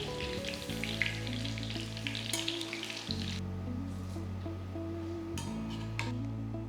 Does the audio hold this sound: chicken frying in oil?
yes